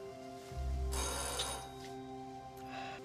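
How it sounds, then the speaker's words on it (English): A bell-like ring sounds over a steady droning hum, one bright chime followed by fainter repeats, moderately loud indoors. "They're ringing the doorbell."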